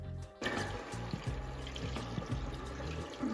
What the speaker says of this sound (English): Let's add water into this pot.